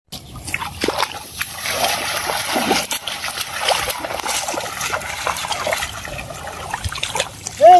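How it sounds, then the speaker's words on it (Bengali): Water splashes and trickles in steady pours in a village setting during a fish catch, fairly loud and close, with scattered knocks and a brief voice at the end. "জল দিলাম"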